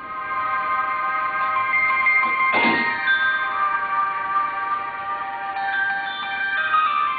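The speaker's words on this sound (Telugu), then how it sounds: "ఇది మా అలారం రింగ్ టోన్." A phone alarm ringtone plays a bright, steady electronic melody of sustained tonal notes, moderately loud and alone, with one brief rustle partway through.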